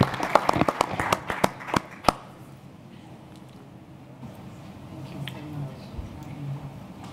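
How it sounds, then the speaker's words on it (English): Scattered handclaps from a conference audience welcoming President Kaberuka to the podium, a quick burst of separate claps that stops after about two seconds and leaves a quiet room hum. "A round of applause for President Kaberuka"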